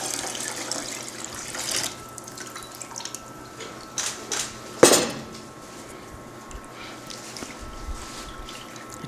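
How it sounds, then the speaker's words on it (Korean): Water poured into a pot holding meat and garlic for a traditional Korean full-moon festival meal, a running splashy pour with clinks of the pot and utensils, one sharp clatter midway, no talk. "그리고 여기 물을 이렇게 붓도록 하겠습니다."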